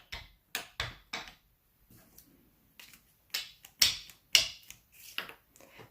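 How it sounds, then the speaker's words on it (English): Rubber stamp pressed onto a die-cut paper circle for card making: a few sharp, close taps and thumps in a quiet room, clustered in short groups. "And just stamp that right in the center."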